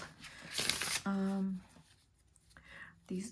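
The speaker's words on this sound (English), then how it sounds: "I'm going to pull 2 cards on past life" Tarot cards being shuffled close by, a brisk burst of riffling and shuffling with short pauses, while a voice speaks softly in between.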